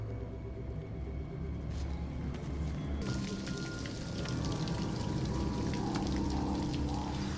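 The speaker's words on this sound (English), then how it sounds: "The waterfall." Rushing waterfall in the Hogwarts Legacy video game, a steady broadband roar of falling water with splashing texture that holds at constant loudness for several seconds, with no speech over it.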